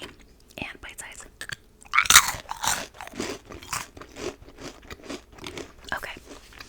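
Crunchy sweet cinnamon puff cereal chewed close to the microphone, a run of sharp crackling bites and steady crunching chews with whispering between them.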